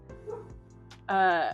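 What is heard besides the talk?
dogs barking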